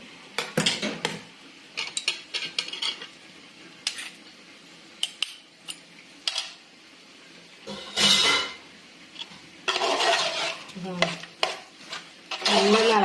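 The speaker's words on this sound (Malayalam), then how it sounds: "നല്ല ഇളക്കി കൊടുക്കാം." Onions fry in an old handleless clay pot, stirred in bursts of scraping and clinking spoon strokes over a soft sizzle, with quiet pauses between the rounds.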